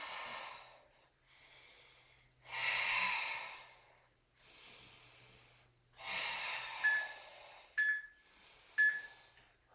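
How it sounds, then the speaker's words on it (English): Several breathy exhales and sighs come in separate bursts during a bodyweight exercise class, close and soft, with a few short electronic beeps near the end. "I'm exhaling as I come up"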